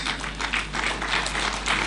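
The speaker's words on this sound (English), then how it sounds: "A round of applause for them." An audience applauds to honour the diplomatic corps at a formal morning gathering, a dense, steady burst of clapping sustained throughout with slight swells, with no voices over it.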